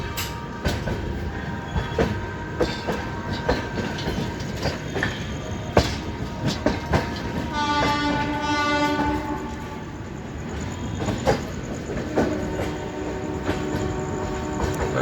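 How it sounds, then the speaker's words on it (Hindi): Passenger train running out of Kanpur Central, with a steady rumble and rattle of the carriages, rhythmic clatter and a horn sounding partway through, heard from on board throughout. "वेल ट्रेन मेरी अब कानपुर सेंट्रल से निकल चुकी है।"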